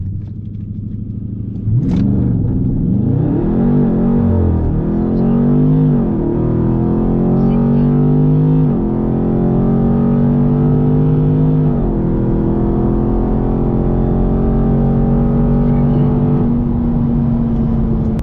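A Dodge Charger 392 Scat Pack roars down a full quarter-mile run, its V8 climbing through several upshifts with rising harmonics and brief dips between gears, loud and close throughout with no talking.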